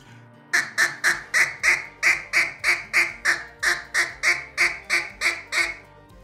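A handheld duck feed call mimics a single feeding duck, giving a loud, steady run of about fourteen evenly spaced, squeaky quacking chatter notes with nothing else beneath them.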